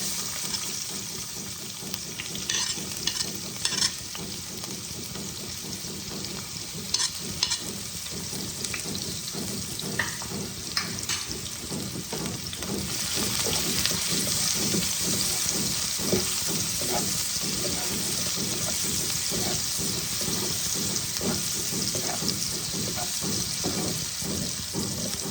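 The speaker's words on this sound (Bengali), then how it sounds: "এবার আমি পেঁয়াজ কুচিগুলোকে ছেড়ে দেব।" Chopped onions fry in oil tempered with cumin, giving a steady sizzling hiss that grows louder and denser about halfway through, close and continuous, with no talk.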